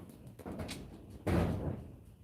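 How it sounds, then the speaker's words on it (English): Thumping impact of a large banner hitting a door, a muffled low bump around the middle of the moment, fairly close, following a softer knock-like sound, with no talk over it. "banner's hitting the door"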